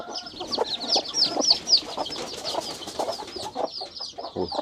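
Hens cluck and chicks peep in a dense, continuous chorus as the young chicks are lifted down from a crate on a farm. High, rapid chirps run the whole time over lower, intermittent clucks, close and fairly loud.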